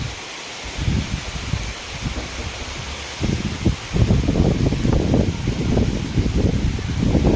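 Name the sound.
heavy rain with wind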